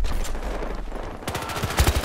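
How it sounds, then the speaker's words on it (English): Rapid gunfire in Battlefield Hardline, bursts of close, loud automatic shots cracking in quick succession, strongest at the end. "Shooting from the windows."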